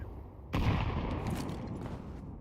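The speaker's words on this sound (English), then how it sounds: "I'm throwing a grenade" A grenade thrown in a video game bursts into a single loud, broadband blast after a quiet moment, with a rumbling roar that lingers and slowly fades.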